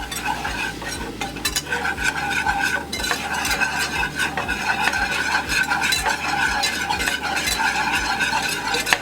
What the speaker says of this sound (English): I'm going to whisk it around.